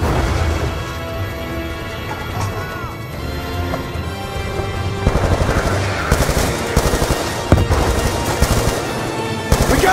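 Sustained cover fire in Call of Duty Black Ops 2, loud rapid machine-gun bursts and scattered shots over a dense battle din, growing harsher and more clustered toward the end, with shouting voices mixed in.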